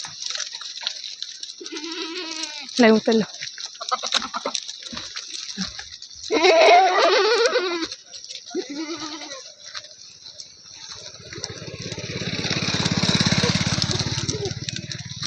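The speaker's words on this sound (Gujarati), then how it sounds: "જો મસ્ત મજાના બકરા દોડીને આવે છે." A herd of goats comes running outdoors, several loud nearby bleats rising in bursts among scuffling and rushing noise, while a person speaks briefly between the calls.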